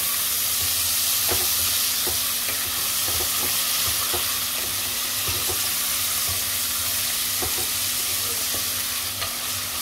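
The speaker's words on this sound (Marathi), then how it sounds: "आता कांदा घालूया, शिजवून घ्यायचा आहे कांदा।" Onion fries in a pan for a lentil and bottle gourd dish, a loud, even sizzle with regular light clicks and scrapes of a spatula stirring close by, and no voices.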